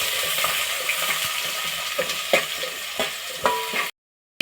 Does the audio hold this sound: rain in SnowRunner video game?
no